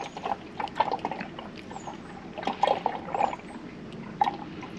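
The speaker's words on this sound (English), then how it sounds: "Pour it into the container with a funnel" Used motorcycle and car engine oil poured through a funnel into a container, giving soft liquid glugs and trickling splashes in irregular bursts, close and fairly quiet with no talking.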